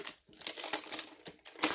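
Scissors cutting through strong plastic wrapping on a Pokémon card tin, a burst of crinkling and tearing with short crackly snips, close and fairly loud.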